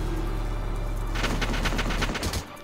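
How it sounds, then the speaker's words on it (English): Several soldiers firing on one target in the Valkyria Chronicles video game, a dense burst of rapid overlapping gunshots after a low rumbling lead-in, loud and close, fading near the end. "he has four people shooting at him"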